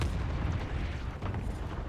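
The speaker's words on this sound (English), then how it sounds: "Allied cluster strike inbound." Cluster strike explosions in Call of Duty Warzone, a rolling barrage of deep booms and rumbling blasts that blur together continuously, loud and close.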